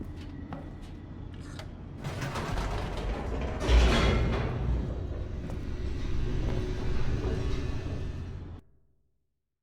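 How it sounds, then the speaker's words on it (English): An elevator in The Stanley Parable rumbles and creaks as it descends, a loud mechanical grinding that swells around the middle, holds steady, then cuts off abruptly into silence. "The elevator raced downward, plummeting towards an unknown fate."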